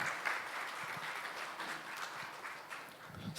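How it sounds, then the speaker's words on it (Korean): A conference audience at a food industry outlook forum applauds in a continuous, even wash of clapping that holds steady in a large hall, with no voices over it. "다시 한번 박수로 맞아주십시오."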